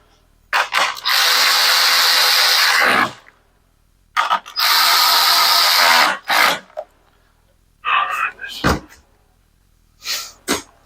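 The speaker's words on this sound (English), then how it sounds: "I wouldn't go out and buy a battery-operated ratchet wrench just to replace starter rope." A battery-operated ratchet wrench working on a starter rope assembly: two long, loud runs of motor whir, each about two to three seconds, separated by pauses, followed by shorter clicks and brief bursts, with no talking.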